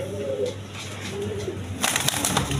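A breeding pair of brown-necked pigeons gives soft, low coos close by, followed by a sudden brighter rustling burst like wing flaps toward the end.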